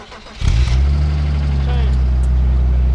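A 2.8-litre BMW Z3 engine with 90k miles starts with a sharp catch and settles into a loud, steady idle with a close, even mechanical drone.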